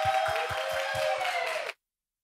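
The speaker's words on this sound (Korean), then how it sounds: "박수로 환영하겠습니다." Church congregation applauding to welcome a speaker during a Sunday youth worship service: a steady wash of many hands clapping close by, dense and even, stopping abruptly after under two seconds.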